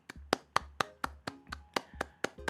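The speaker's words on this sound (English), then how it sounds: "thought I'll give him a clap there" One person claps steadily and close by, about nine evenly spaced sharp claps in a slow, regular rhythm, quiet and alone with no talking.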